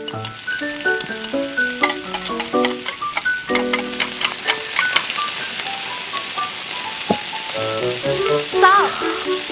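Tiny shrimp frying in cooking oil in a miniature seafood kitchen, a steady close sizzle with crackling bursts running under bright, melodic background music throughout.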